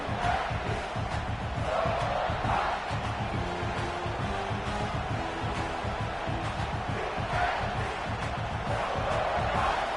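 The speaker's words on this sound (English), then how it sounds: "This crowd trying to make life miserable for this offense." Stadium crowd roar in the College Football 26 video game, a loud, steady wash of cheering and noise that holds for the whole stretch with faint swells, no other sound standing out.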